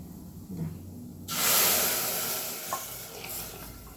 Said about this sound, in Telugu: ఇప్పుడు మనము పాలు పోసేస్తామండి